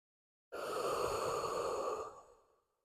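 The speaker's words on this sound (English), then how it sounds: "take a couple breaths" One slow, airy breath during a yoga stretch, a close, soft exhale that swells and then fades out gently, heard alone.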